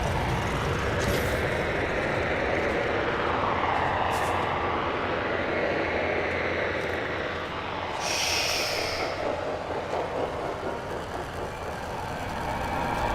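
A loud starship engine in the video game No Man's Sky roars with a rough, breathy rumble, steady and close throughout, swelling briefly with a hiss near the end.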